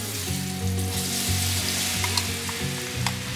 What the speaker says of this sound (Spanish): aquí a un lado encendemos nuestra estufa y vamos a freír nuestros plátanos. Se fríen en poco aceite.